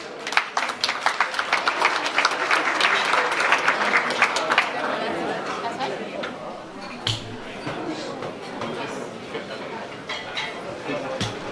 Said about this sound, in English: Sevgili misafirler, ilk dansları için onları alkışlıyoruz